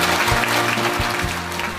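A concert audience in Mokpo gives steady, full applause as a guest performer is welcomed on stage at a singer's centenary concert.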